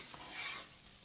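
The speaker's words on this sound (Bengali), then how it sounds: "এটা এবার নাড়াচাড়া করার পালা। নাড়াচাড়া করি" Nasi goreng fried rice with pineapple is stirred in a hot pan, giving a brief burst of scraping, sizzling hiss that swells and fades within a second.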